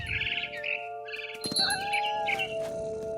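Birds chirp and tweet in the video game What Remains of Edith Finch, bright clear calls and short trills in quick bursts over a quiet, steady tonal background hum.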